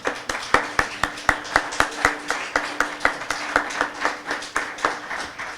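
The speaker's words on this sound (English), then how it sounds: "let's give her a round of applause and bring her on up" An audience claps for a presenter being welcomed on stage at the Alchemy 2012 event, with sharp, evenly spaced claps in a steady rhythm over a faint constant hum.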